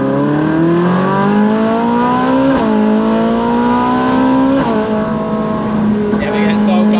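A Ferrari supercar engine revs loud and close, its pitch climbing steadily and then dropping sharply at each gear change, twice in a row, with a voice talking over it.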